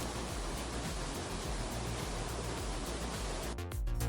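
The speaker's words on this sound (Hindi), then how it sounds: "उसके नीचे है ये वाटरफॉल जो आ रहा है डेविस फॉल से" Steady roar of a waterfall fed from Davis Falls, pouring below a cave temple in Pokhara, Nepal; broad, dense rushing noise that holds continuously and loud, with a brief shift near the end.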